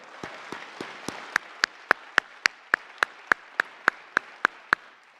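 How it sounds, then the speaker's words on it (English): Slow, deliberate clapping by one or a few people at a 2020 Toyota Highlander presentation, sharp evenly spaced claps that start soft and grow louder and crisper, around eighteen claps in a steady rhythm. "I clap for them too"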